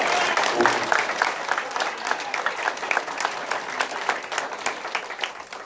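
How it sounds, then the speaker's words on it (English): A steady round of applause fills a senior awards ceremony, many hands clapping in a dense, sustained wash from start to finish, with a voice or two faintly beneath it. "let's give everyone a round of applause"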